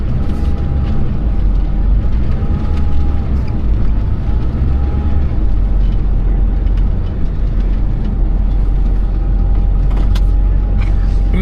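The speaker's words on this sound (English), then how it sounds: "We're gonna leave this truck running" A truck engine idles steadily up close with a deep continuous rumble and a faint whine, while a person talks over it.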